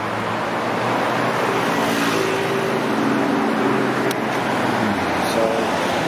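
Steady roar of busy road traffic, cars passing continuously at moderate distance with a faint voice underneath.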